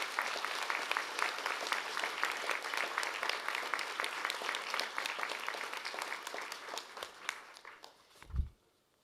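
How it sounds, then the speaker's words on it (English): Sustained, dense applause from a university graduation ceremony audience in a hall, with a steady wash of clapping that gradually thins and fades, and a single low thump just before it ends. "I think they now deserve a big round of applause in appreciation."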